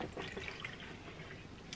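Hands stir acrylic paint into water, a soft wet swishing and faint dripping, quiet and close with no talking.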